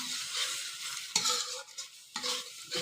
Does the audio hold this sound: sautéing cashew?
yes